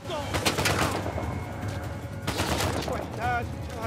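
Enemy gunfire in the video game Uncharted 4, with bursts of shots near and far mixed with game noise while voices talk over it.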